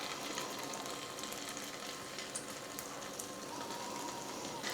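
Potato snack dough sizzles and crackles steadily in hot oil in a pan, a continuous close frying hiss with fine popping and no talk.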